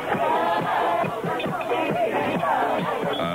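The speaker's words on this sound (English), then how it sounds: "Even as the president spoke, there was a demonstration taking place outside the White House." Anti-war protesters outside the White House at the start of the Desert Storm Gulf War chant in rhythmic, shouted bursts, a large crowd heard at moderate distance.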